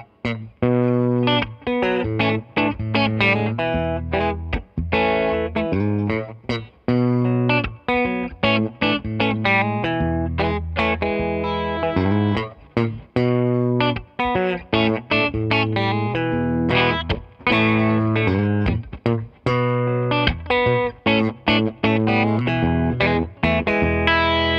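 Electric guitar with a dry tone plays a song, a continuous melodic line of plucked notes and chords, steady and upfront, with no voices.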